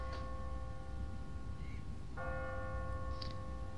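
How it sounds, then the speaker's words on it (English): Church bell in The Walking Dead video game tolling on an automatic timer, two sustained ringing strikes with long humming overtones over a low rumbling ambience, no talk. "No one's ringing that bell. It's automatic. On a timer."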